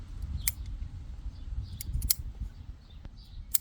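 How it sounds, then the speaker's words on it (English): Scissors snip a Japanese maple scion during summer grafting: a few sharp, crisp clicks spaced irregularly over a quiet low background rumble. "I'm going to use these scissors here"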